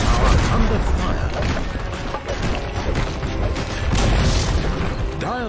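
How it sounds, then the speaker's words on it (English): A Dota 2 tower being destroyed during a pro match on patch 7.19d, with heavy crashing booms and crumbling impacts layered over dense, continuous battle noise, loud throughout the clip. "Dire's bottom tower has fallen."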